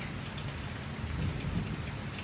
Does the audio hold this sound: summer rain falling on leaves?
yes